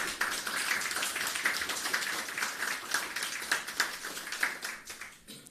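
An audience at a media briefing on hurricane recovery breaks into a round of applause for the agriculture minister, dense, even clapping that holds steady for several seconds and thins out at the end.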